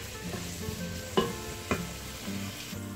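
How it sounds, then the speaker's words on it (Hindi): A large onion sautéing in hot oil in a pan, giving a steady close sizzle broken by a couple of sharp stirring knocks and scrapes, with no talk. "ये मैंने ऑयल डाल दिया है, और इसमें ये एक लार्ज साइज का अनियन था ये मैं डाल रही हूँ।"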